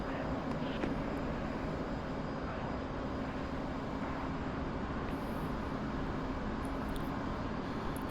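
A Blue Angels jet circles for a solo airshow pass in the DCS World flight simulator, heard as a continuous, even, broadband engine roar that never lets up.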